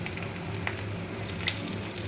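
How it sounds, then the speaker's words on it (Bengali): Pointed gourd sizzling in hot oil, a steady close crackle with a couple of sharper pops, no voices. "একটু পটলগুলো লাল লাল করে ভেজে নিই"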